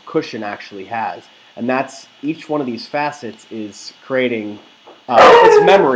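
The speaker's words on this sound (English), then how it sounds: "That was my dog." A dog barks and yelps loudly and close by for about a second at the end, cutting in after steady talk from a man explaining software.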